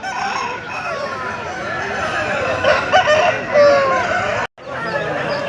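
A rooster crows amid a busy hen market crowd, its call rising over a dense wash of clucking fowl and voices, with a brief cut near the end before the market din resumes.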